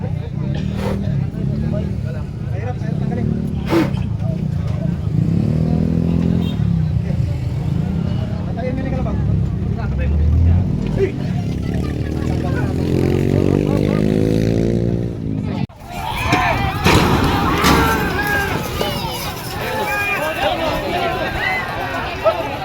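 A motorcycle engine putters and revs nearby at a carabao racing festival, its rhythmic chugging rising in pitch, while people talk and shout over it and a crowd murmurs around.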